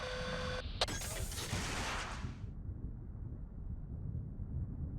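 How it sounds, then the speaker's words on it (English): Spaceship in the game SpaceBourne launching two missiles into empty space: a sharp launch crack followed by a loud roaring whoosh that fades into a steady low engine rumble, after a brief electronic beeping tone. "just firing 2 missiles to space will suffice"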